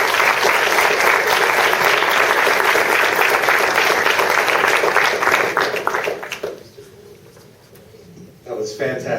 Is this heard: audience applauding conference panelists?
yes